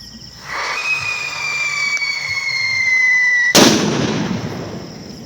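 A firecracker fuse hisses and whistles with a rising whine for a few seconds, then a single loud, close bang bursts out, followed by a crackling, rattling tail.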